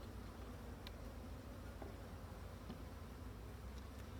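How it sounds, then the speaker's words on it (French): Black honeybees buzz steadily around a hive during an inspection of a very weak colony, a faint continuous drone with a few brief nearer passes and no talk. "il y a pas mal d'abeilles qui tournent autour de nous"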